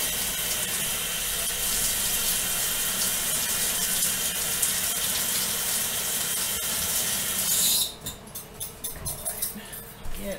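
Tap water runs steadily into a sink while electric mixer beaters are rinsed under it, a loud close hiss that cuts off near the end, leaving a few splashes and clinks.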